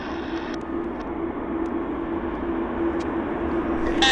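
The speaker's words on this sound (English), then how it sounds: "Air Canada 978 has left the gate, so her journey has started to Cabo" An Air Canada passenger jet pushed back from the gate at Vancouver airport, a steady distant engine hum and whine holding at an even level with faint higher tones, no talk over it.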